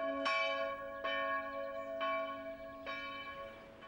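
The medieval tocsin bell in the north tower of Roskilde Cathedral, Denmark's largest bell from the Middle Ages, strikes four times at a slow, even pace, each stroke ringing on and overlapping the next.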